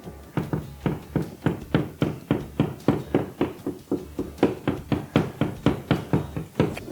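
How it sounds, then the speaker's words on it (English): The rubber end of a hammer taps a wall repeatedly while searching for a stud, a steady run of close, dull thuds about three per second with brief pauses between groups. "I'm going to take the rubber part of the hammer, or I use a magnet to find the stud"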